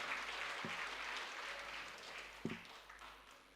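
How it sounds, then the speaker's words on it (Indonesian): Scattered applause rises from an audience at a declaration event for a regional election campaign, fairly faint and distant, with a couple of sharp knocks standing out over the clapping. "Mohon tepuk tangan untuk kita semuanya"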